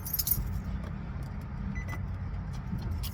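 Car keys jangle and clink near the microphone inside a parked car beside a noisy road, with steady low traffic rumble underneath and no talking.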